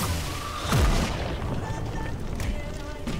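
A fire style fighting skill effect in the Roblox game Jujutsu Infinity, a sudden whooshing boom that swells and fades, with a few lighter impact hits afterward over a steady game background.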